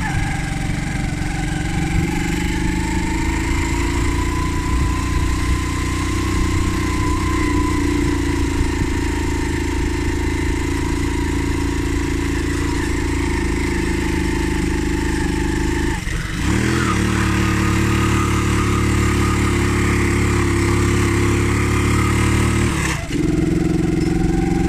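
A motorcycle ridden one-handed along a village dirt trail on Doi Inthri holds a steady, close mid-pitched engine drone for the whole stretch, with two brief dips where the throttle eases before it pulls on again.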